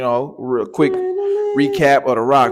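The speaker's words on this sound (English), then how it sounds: "That's my dog right there." A pet dog gives a drawn-out tonal howl with whimpering rises and falls, close and loud, while someone talks over it.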